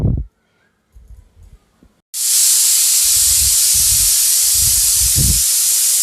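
A pressure cooker on a gas stove, cooking lauki and chana dal, suddenly releases a loud, sustained hissing whistle of steam that continues steadily after a few quiet clicks and low rumbles.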